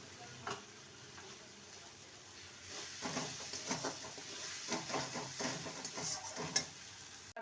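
A spatula stirs a vegetarian potato curry in a pan, quiet, irregular scraping and clinking strokes over a soft sizzle, heard close up with no speech.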